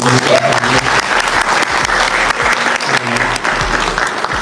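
Indonesian students at a diaspora dialogue with Anies Baswedan in Duisburg, Germany, clap for fellow students: lively, loud applause from a room of people, with scattered voices talking over the clapping.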